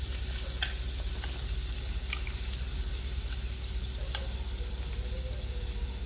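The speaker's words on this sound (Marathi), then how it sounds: "बीन्स थोडे परतले की आपण त्यामध्ये बाकीच्याही भाज्या घालणार आहोत।" Beans are stirred and sautéed in a pan, with a steady loud sizzle and occasional light scrapes and clinks of the spoon, and no speech.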